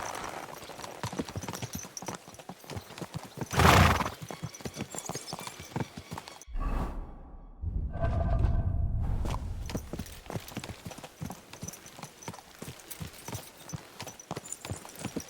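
Horse hooves clip-clop in a steady walking rhythm while riding in Kingdom Come: Deliverance II, close and clear, with a brief dull thump and a short rumbling pause midway.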